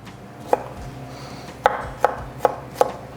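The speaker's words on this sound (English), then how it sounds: "I'm gonna mince these just because I'm here with a knife." Garlic cloves minced with a knife on a cutting board while cooking potato soup: five crisp knocks, one isolated and then four evenly paced strokes, close and clear over a quiet room with no talking.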